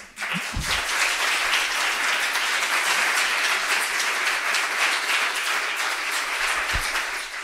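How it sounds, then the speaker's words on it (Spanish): An audience at a coworking demo day claps together, a steady broad burst of applause that swells quickly, holds evenly for several seconds and begins to taper at the end, with a couple of low thumps. "pido un aplauso para mi amiga"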